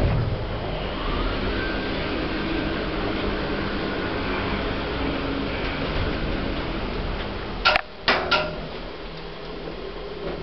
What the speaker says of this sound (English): Lift going down.